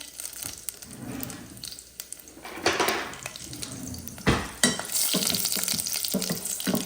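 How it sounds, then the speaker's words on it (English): Whole cloves dropped into hot oil for plain daal, giving a steady close sizzle and crackle with bursts of frying and a few utensil knocks, no talking. "Now what I'm going to do is put these cloves in there."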